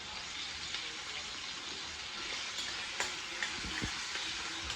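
Onions frying in a pan and stirred by hand, a low steady sizzle with occasional soft scrapes and clicks near the end.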